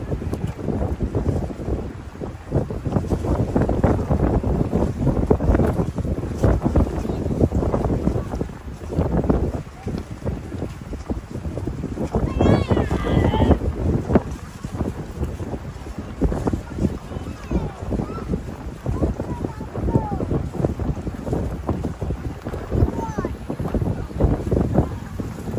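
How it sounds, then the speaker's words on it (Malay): Strong gusty wind buffets the microphone at a seaside campsite, roaring continuously for the whole stretch with surges and brief lulls, while a voice speaks faintly in the background. "Bukan sekali, tengok-tengok angin makin kencang."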